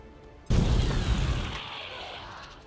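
A grenade goes off in the XCOM 2 video game with a sudden loud boom, followed by a crackling, debris-filled tail that fades over a couple of seconds.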